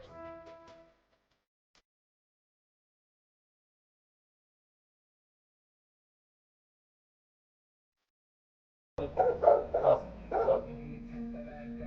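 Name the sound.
dog barking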